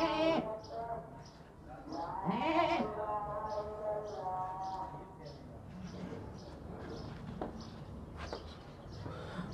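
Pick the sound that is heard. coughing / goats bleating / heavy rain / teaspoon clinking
goats bleating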